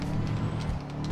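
A Nissan Skyline GT-R R34 with full nitrous in GTA V roars along at top speed, a steady, dense engine and road drone that holds loud and unbroken throughout.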